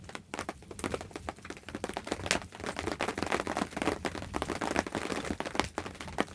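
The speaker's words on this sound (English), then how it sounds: "Pitter patter of rain on the tarp and on the Bedouin tent." Rain patters steadily on a tarp and a Bedouin tent in a damp rainforest at nightfall, a dense, irregular tapping of drops close by, with no voices.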